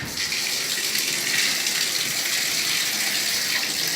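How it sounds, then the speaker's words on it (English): Water gushes steadily from a tap onto a K&N air filter being washed, in a constant, loud hissing stream, with no voices or pauses. "we're going to wash this filter out until it's completely white"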